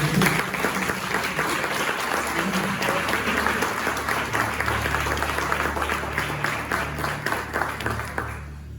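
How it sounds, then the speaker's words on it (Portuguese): A church congregation breaks into sustained, dense applause throughout, a steady wash of many hands clapping in a large indoor room that tapers off at the very end. "Eu gostaria que vocês aplaudissem o nome do Senhor."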